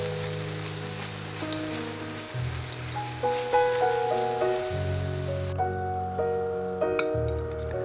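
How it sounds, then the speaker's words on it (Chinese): Egg tofu stir-fried in a pan with chili and scallions gives a steady close sizzle, with tonal hums and brief clinks from the cookware running beneath it. "再撒入一点小米椒和葱花，然后再翻炒个30秒"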